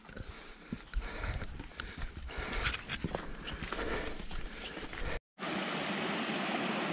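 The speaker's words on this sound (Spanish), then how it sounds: "Primer regatillo importante." A small stream runs beside a mountain trail near Muros, a steady close rush of water under crunching footsteps, ending in a brief gap and then an even hiss of flowing water.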